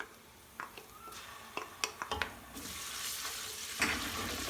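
Garlic ginger paste frying with browned onions in a pan for palak chana dal, soft sizzling broken by scattered clinks and stirring knocks, with a steadier sizzle swelling near the end.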